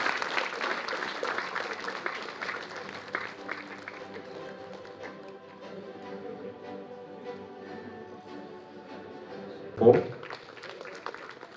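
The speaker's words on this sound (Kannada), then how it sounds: "ಉಳಿದವರೆಲ್ಲರೂ ಸಹ ಚಪ್ಪಾಳೆ ಹಾಕುತ್ತಾರೆ." An audience applauds at an award ceremony, a sustained wash of clapping that gradually thins and fades, with a brief louder thump near the end and a voice under it.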